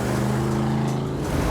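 A Mercury Park Lane engine runs with 2.5-inch stainless exhaust and Flowmaster mufflers, giving a loud, steady, throaty drone that stays even from start to end, with no voices.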